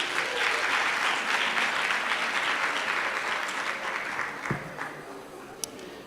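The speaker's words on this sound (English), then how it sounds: "So give a big round of applause to students who are committed to their faculties and they became disciplined." Big round of applause from an audience at a World Food Day gathering, a thick sustained burst of many clapping hands that slowly thins and fades, with a couple of stray louder claps near the end.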